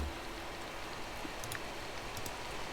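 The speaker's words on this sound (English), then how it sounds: "Okay, it is raining." Steady light rain falls in the farming game Coral Island as a soft, even patter with faint drops ticking on surfaces. It stays quiet throughout and no one speaks.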